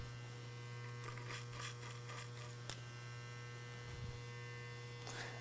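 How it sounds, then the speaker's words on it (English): Electric hair clippers cut hair clipper over comb during a side part haircut, giving a faint, steady low buzz throughout with a few light clicks and brushing sounds. "we're going to do a little bit more clipper over comb"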